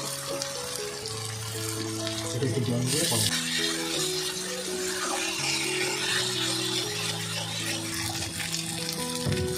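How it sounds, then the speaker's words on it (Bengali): Ginger paste fries with garlic in oil for a Kolkata-style mutton kosha, a dense continuous sizzle with stirring under loud background music. "আদাটা দিয়েও কিছুক্ষণ ভাজা করেছে"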